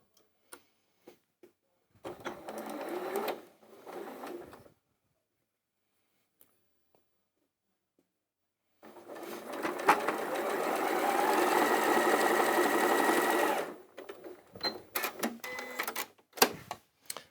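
A sewing machine stitches a scant quarter-inch quilt seam in two runs, a short burst followed by a longer steady whir, with small clicks and handling noises between, and no talking.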